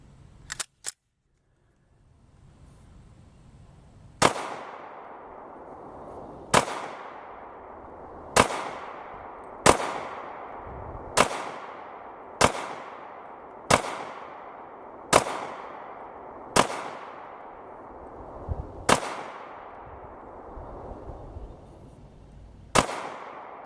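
A Sig Sauer P320 Compact handgun in .40 S&W fires about eleven sharp, loud shots at targets at an irregular, unhurried pace, each crack followed by a short ringing decay, with faint background noise between shots.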